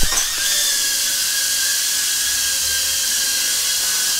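Tomzon A23 mini drone flying indoors in a hallway, a steady high-pitched whine of tiny propellers, close and continuous, with no talking.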